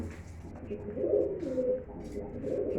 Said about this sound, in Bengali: প্রথমেই আপনাদের মাঝে ছাড়লাম আমার একটা মাদি কবুতর